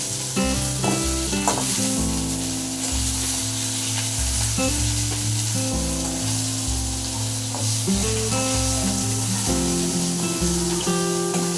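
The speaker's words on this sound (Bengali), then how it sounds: "আর এদিকে যে মাছ ভাজা চলছে।" Fish sizzles steadily in a frying pan at home, a loud continuous crackling hiss that runs throughout alongside tonal background sounds.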